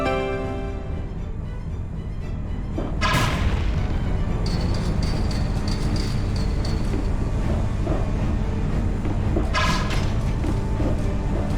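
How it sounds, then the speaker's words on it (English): A magic ring blast smashes a gate in Tales of Vesperia on PS5: a heavy boom hits early, then a sustained loud rumble with crackling debris and bright chiming flashes over a constant game-sound bed. "Let's use the Sorcerer's Ring to destroy that gate"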